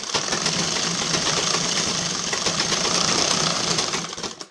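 Sewing machine running steadily for the whole stretch while stitching the lining of a four-tuck blouse, a dense continuous mechanical whir, close and fairly loud, with no talking.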